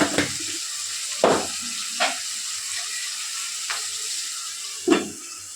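Curry leaves dropped into hot oil in a pan while a bitter gourd curry with tomato and onion cooks give a soft, constant sizzle, broken by a few sharp spatters and spoon stirs at uneven gaps.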